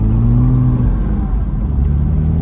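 A 2005 Porsche Boxster's engine holds a loud, steady drone with low harmonic tones, rising slightly near the start and then settling, heard close up from inside the car.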